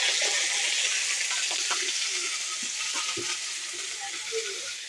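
Potatoes frying in hot oil give a loud, dense, continuous sizzle close by, with occasional soft stirring knocks and scrapes underneath and no voices.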